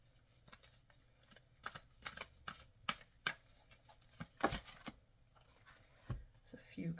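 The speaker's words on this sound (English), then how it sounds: "I'm just being guided to just pull some of these Sacred Destiny cards." Sacred Destiny oracle cards being shuffled by hand, quiet irregular riffles and soft slaps of card stock close up, with brief louder flurries scattered through the seven seconds.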